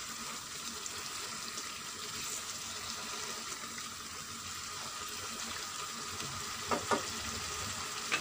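Chicken karahi frying in a pan, a soft continuous sizzle heard close but fairly quiet, with a couple of faint clinks from stirring near the end and no voices.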